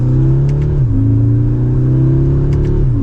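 A 2024 Audi S3 Premium Plus in dynamic sport mode revs up in steady, loud engine swells, its pitch rising and falling twice, with faint pops in between.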